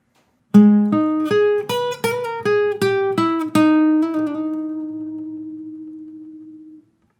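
An electric guitar plays a riff, a run of about ten plucked notes in a steady rhythm that ends on a long ringing note fading out, with no voice.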